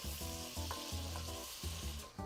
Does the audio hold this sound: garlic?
yes